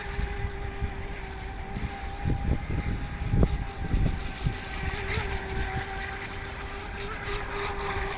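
A DEERC Challenger 2104 RC boat whines steadily across cold winter water while a few splashes and bumps from the hull rise over the motor hum and wind.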